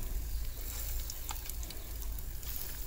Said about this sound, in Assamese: পকৰিখিনি ভাজি থাকিম।